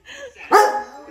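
A dog gives a single sharp bark after a brief whine, close and fairly loud, with the air heavy before Hurricane Ida in Louisiana.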